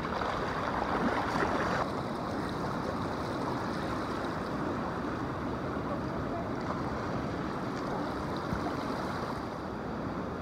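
Waves surge and wash against a rocky shore on the Chiba coast, a continuous broad roar with wind buffeting the microphone, slightly louder for the first couple of seconds and then steady to the end.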